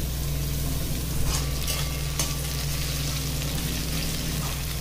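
Carrot and capsicum stir-fry in a pan for homemade noodles, giving a steady close sizzle with soft scraping stirs and a few light clinks, and no talking.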